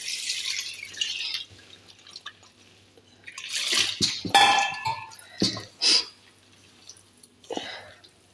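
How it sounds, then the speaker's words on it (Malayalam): Salt water is poured into rice flour and the dough is kneaded by hand for rice ada: splashy pouring, then wet squelching and slapping bursts, close and uneven. "അപ്പോൾ ഇതൊന്ന് ഉപ്പിൻ്റെ വെള്ളം ഒഴിച്ചൊന്ന് കുഴച്ചെടുക്കാം."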